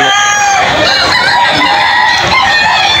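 Roosters and chickens at a poultry market in Bocaue, Bulacan, on a rainy day, with dense overlapping crowing and clucking from many birds, loud and continuous, with a faint murmur of people underneath.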